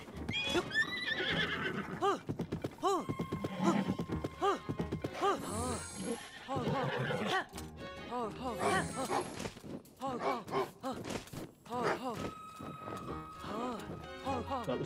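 Horse riding in Zelda: Tears of the Kingdom, with repeated whinnies and neighs and a rhythmic clip-clop of hooves under a player's running commentary.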